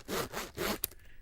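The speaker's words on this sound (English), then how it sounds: "It's a zipper" A bum bag zipper is pulled open in a few quick rasping strokes, close and fairly loud, ending in a sharp snap before quiet.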